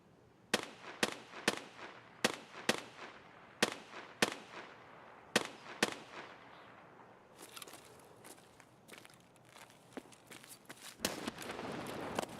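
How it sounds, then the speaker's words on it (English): A grenade goes off in Escape From Tarkov, part of a run of sharp, loud cracks and bangs spaced across the stretch, followed by denser rattling bursts of gunfire toward the end, with no talking. "I just threw a grenade right there."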